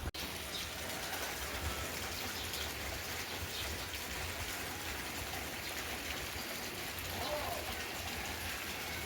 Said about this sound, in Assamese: বৰষুণ যিহেতু দি আছে